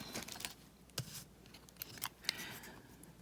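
Earring wire is snipped at the tip with a few small, quiet clicks and snaps, heard close up in a hushed room with no talking.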